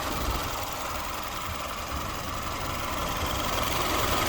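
Turbocharged Chevy Malibu engine idling steadily at close range, a continuous low rumble with an even, unbroken hum and no voices.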